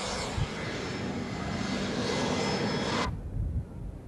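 A jet airplane roars past at an air show, a loud, broad sustained engine rush that cuts off abruptly near the end, leaving quieter background noise with no speech.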